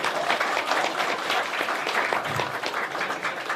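Clapping and applause from an audience at a press conference for the Pacific Rim Cup 2019, a dense continuous patter of many hands at moderate distance.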